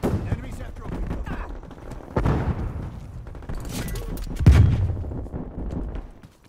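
Gunfire in a Call of Duty Cold War multiplayer match, bursts of shots and heavy booms at uneven intervals, some close and loud, with game voices calling out between them.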